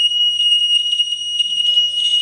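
A homemade water tank overflow alarm buzzer sounds a steady, piercing high electronic tone without a break, loud and close, with a second lower tone joining near the end.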